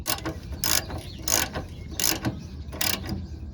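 A ratchet wrench cranks a bolt tight on the upper control arm of a 1988–1997 Nissan D21 pickup, four loud, regular bursts of rapid clicking pawl strokes close by, with no talking.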